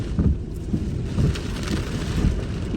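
Blustery wind from a severe thunderstorm in a residential area of Edmonton, Alberta, roars against the microphone while rain patters steadily, with low rumbling gusts swelling and easing throughout.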